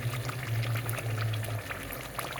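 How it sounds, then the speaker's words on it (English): Nigerian stew boils in a pot with a constant dense bubbling and popping, steady and fairly loud up close, over a low humming drone, with no voices. "So I will allow it to boil together a little bit for like 1 to 2 minutes."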